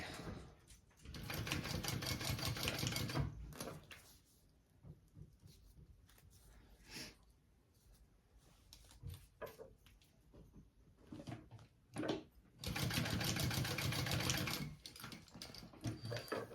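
A sewing machine bastes bag D-ring tabs shut in two loud bursts of rapid stitching, one at the start and one near the end, with quieter handling and fabric noises in between.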